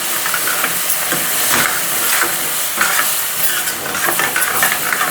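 Water hits a hot soya bean gravy in a pan and sets off a loud, steady hiss and sizzle with bubbling pulses, close up and with no one talking.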